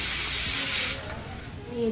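A pressure cooker cooking khichdi vents steam with a loud, harsh hiss for about a second, then cuts off abruptly, leaving a faint quieter rumble.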